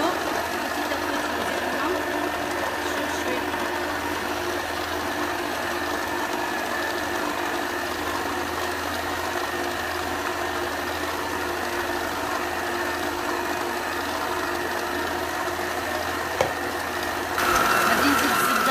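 A stand mixer kneads a large three-kilo batch of Moroccan brioche dough, its motor giving a steady, even whirring drone throughout, with a slight shift in tone right at the end.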